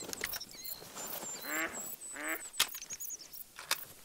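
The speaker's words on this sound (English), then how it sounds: "And there goes ducks." Ducks in the hunting video game Hunter Call of the Wild quack in a few short raspy bursts, mid-distance, among sharp clicks and other small in-game sounds.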